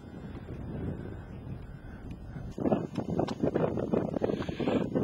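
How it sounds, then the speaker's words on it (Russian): Wind buffets the microphone in rough gusts on a mountain pass, growing louder and more turbulent halfway through. "Перевал встречает нас довольно сильным ветром."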